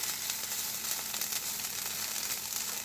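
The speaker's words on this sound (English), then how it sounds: "let's toss our potatoes and onions" Potatoes and onions fry in a pan for breakfast, giving a faint, steady sizzle with soft tossing and scraping noises mixed in, and no voices.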